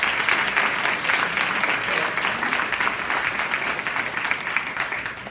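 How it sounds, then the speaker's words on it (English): Audience applause welcoming a guest speaker onto a stage, a dense and loud sustained roar of many hands clapping for several seconds with no voices on top. "so welcome him up with a round of applause"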